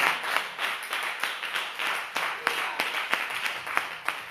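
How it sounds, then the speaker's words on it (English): A church congregation claps together during a sermon, with steady, fairly fast rhythmic hand claps sustained throughout, close and moderately loud. "Clap your hands one time if you can."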